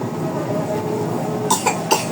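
A child coughs about three times in quick succession toward the end, short sharp bursts standing out over a steady indoor background hum.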